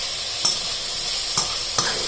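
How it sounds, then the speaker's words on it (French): Lardons fry in a saucepan, a steady bright sizzle close by, with three brief clinks and scrapes as they are stirred. "vous mélangez les lardons dans la casserole."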